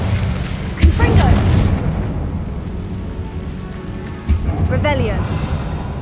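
A fiery Confringo spell blast in Hogwarts Legacy bursts out twice as loud booming explosions with rumbling tails, set against steady game ambience.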